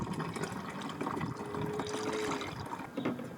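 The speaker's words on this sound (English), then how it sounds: "I am going to put a little bit of coolant in the expansion tank here" Coolant poured into the expansion tank of a 2000 Suzuki Wagon R with an F6A turbo engine gives a soft, close liquid trickle and gurgle, quiet and continuous with a faint rising filling tone.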